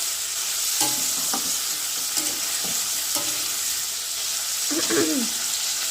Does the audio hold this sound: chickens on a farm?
no